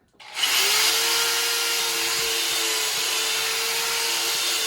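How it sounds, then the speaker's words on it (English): A power drill whirs up and runs steadily at high speed, drilling fin holes into a bodyboard with a constant buzzing whine, close and loud. "So next thing I'm going to do, take the drill."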